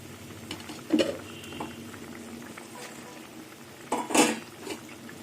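A pan of puti fish curry with fried fish bubbles with a steady low simmer, broken by two brief clinks of a utensil against metal.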